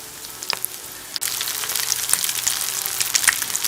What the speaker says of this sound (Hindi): तो अब हम इसमें कबाब को फ्राई कर लेंगे।